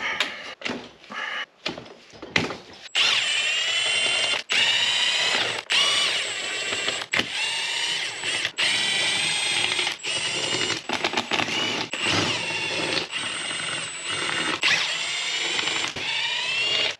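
A power tool spins out Torx T50 bolts from a Borg Warner 1356 transfer case, with repeated loud mechanical whirring and ratcheting bursts separated by short pauses, up close and without speech.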